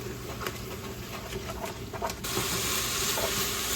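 Ground turkey sizzles and crackles steadily while searing in a hot pan, with scattered pops and a rise in hiss near the end; close, no voices.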